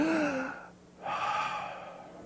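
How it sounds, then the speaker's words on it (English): A person demonstrates a deep breath in, a fairly quiet airy intake with a voiced, gasp-like start, a short pause, then a second long breathy inhale, all close to the mic. "taking in that nice deep breath that we all know and love so well"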